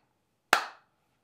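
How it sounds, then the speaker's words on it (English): A single sharp hand clap in a woodworking shop, knocking sawdust off the hands while building a curly maple keepsake box, with a short decaying ring afterward and no talk. "I literally clapped sawdust into my eye just now."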